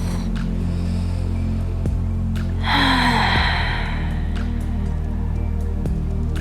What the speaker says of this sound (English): take another deep, honest breath